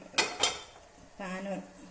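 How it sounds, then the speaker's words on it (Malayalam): A kadai set down on a kitchen stove while making jackfruit payasam: two sharp metallic clanks close together, followed by a short ringing scrape of metal. "ഒരു കടായി പാത്രം എടുത്ത് വയ്ക്കാം."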